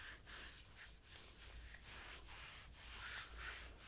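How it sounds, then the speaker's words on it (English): Hands rub briskly over shins and calves during gentle yoga, a soft, close swishing friction repeated in steady strokes, quiet and without speech. "Give those shins and calves a good little rub."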